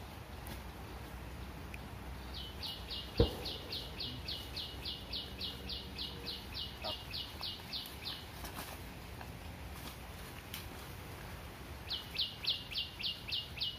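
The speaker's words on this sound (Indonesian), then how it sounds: "saya melihat burung puyuh itu, ada koloni burung puyuh Jawa itu sedang berjalan-jalan itu" Javan quail in a colony call with rapid, evenly spaced chirping series, one long run followed by a shorter burst, over faint outdoor ambience with a single sharp knock.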